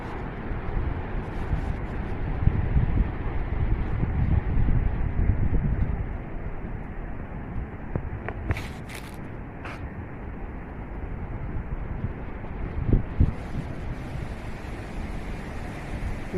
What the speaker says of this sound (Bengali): শো শো আওয়াজ শুনতেছেন বাতাসের